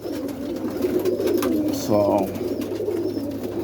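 Boston roller pigeons coo softly in a loft, with a low murmuring coo under the background and a brief throaty call near the middle, while someone says a word.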